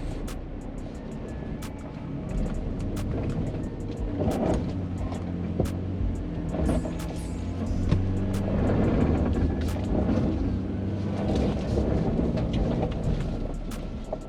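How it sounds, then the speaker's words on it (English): A 2025 Nissan Frontier Pro-4X truck drives up a trail hill, its engine a deep droning rumble that rises and swells over the climb, with occasional clunks and knocks from the rough ground. "I think we're ready to go ahead and send the Frontier up this hill and see how it does"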